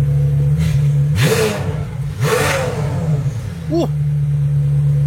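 A McLaren Senna turbo engine revs hard twice in quick succession, pitch climbing sharply then dropping back to a steady idle, followed by a short whistling turbo whoosh.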